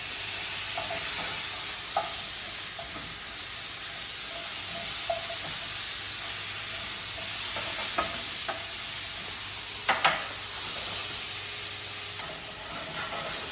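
Vegetables and garlic sautéing over reduced heat in a pan, a soft continuous sizzle with scattered scrapes and taps of stirring, one sharper clatter near the end.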